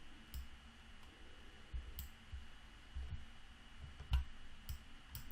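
Computer mouse clicking in a few sharp, isolated clicks spaced irregularly over a steady low hum, with no one talking.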